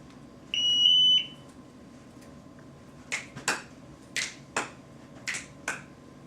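An MSA Altair 5X gas detector sounds a shrill electronic beep lasting under a second as it powers on, followed by a string of sharp, close clicks and taps at irregular intervals.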